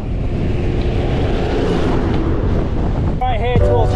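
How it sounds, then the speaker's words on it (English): Strong wind roars across the microphone on an exposed hilltop during a bike ride, a loud, constant gusting rush, with a brief voice near the end. "A bit windy though. Wind and beautiful views."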